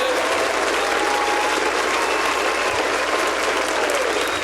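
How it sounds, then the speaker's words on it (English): Loud, dense applause from a live podcast audience fills the whole stretch steadily, with no break or talk over it. "Can I get another round of applause"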